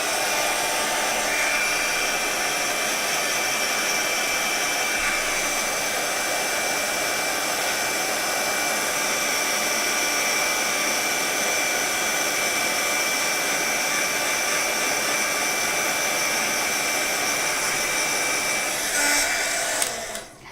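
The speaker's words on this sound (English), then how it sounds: "we're going to do this heat gun one more time" Heat gun blowing continuously and loudly over a paper craft die cut, a steady close-up roar that lasts about twenty seconds without a break before cutting off.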